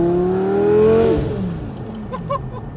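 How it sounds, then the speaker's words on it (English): A twin-turbo 2008 Lamborghini Gallardo Spider with a six-speed manual revs up close and loud, its engine tone rising to a peak and then falling away into a lower whir with a few light clatters. "It has a twin turbo kit, it has a 6-speed manual transmission, and it makes all the right noises."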